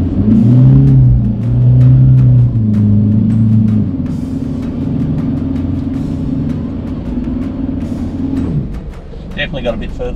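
A car pushing through very soft, warm sand dunes on tyres at 25 psi gives a loud, close engine drone that holds steady, then rises and strains before easing off near the end, with faint knocks and rattles throughout.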